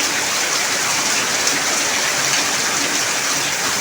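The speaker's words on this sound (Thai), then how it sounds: "อยากให้เพื่อนเห็นบรรยากาศตอนฝนตกเนาะแถวข้างนอกเรา" Heavy rain pours steadily in a rural village in Surin province, Thailand, with a loud, dense and unbroken hiss and no voices.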